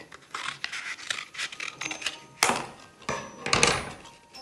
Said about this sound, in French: vous reprenez votre rouleau, votre paire de ciseaux et vous coupez votre rouleau en deux